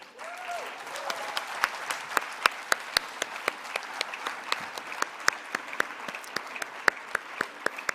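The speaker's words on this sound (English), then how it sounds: "keep the applause going and keep us motivated" An audience at a conference valedictory session keeps up steady, sparse applause as an awardee steps on stage, with distinct individual claps in an irregular rhythm and a faint voice at the start.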